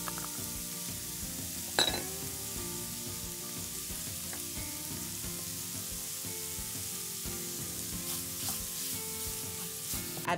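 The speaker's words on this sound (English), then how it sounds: "Cook the pancetta in a skillet so that the fat renders and it gets nice and crispy." Pancetta, garlic and ground pork sizzle steadily in a hot skillet, a continuous close frying hiss with occasional stirring clinks and scrapes, and no voices.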